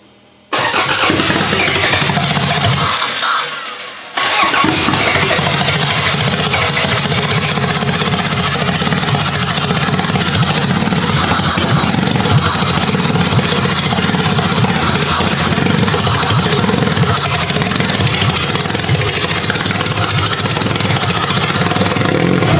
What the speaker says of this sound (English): The motor does not seem very happy